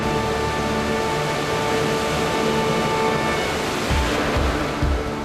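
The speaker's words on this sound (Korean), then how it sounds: "215m의 웅장함을 자랑하는 삼첩천 폭포다" Sandiequan waterfall, which drops 215 m on the slopes of Lushan mountain, gives off a loud, steady, broadband roar of falling water that holds without a break throughout.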